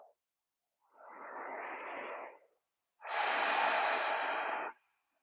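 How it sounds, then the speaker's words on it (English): Two slow, deep breaths during a yoga practice, a soft airy inhale followed by a longer, stronger exhale, close to the microphone in a quiet room with no speech. "Taking a couple of nice deep breaths here."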